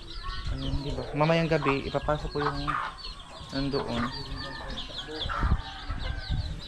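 Farm fowl outside a pen at night make loud, close clucking and honking calls in irregular bursts, mixed with a person talking nearby.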